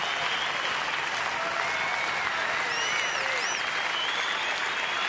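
A baseball crowd of 16,245 at Washington's stadium roars and cheers against Houston, a dense, loud, continuous wall of clapping and shouting with occasional whistles rising above it.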